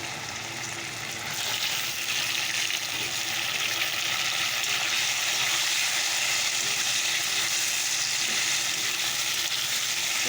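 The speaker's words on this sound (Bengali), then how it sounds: "একটু জিরে ফোড়ন একটু শুকনো লঙ্কা ফোড়ন দিয়ে দিয়েছি" Cumin seeds and dried red chillies tempering in hot oil for a vegetable curry give a steady, close sizzle and crackle that holds throughout, with no talking.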